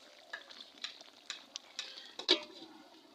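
Bottle gourd curry with fish heads sizzling in a pot over a clay stove in a village kitchen, stirred with repeated scraping and clinking of a spoon against the pot, close and fairly loud, with no talking.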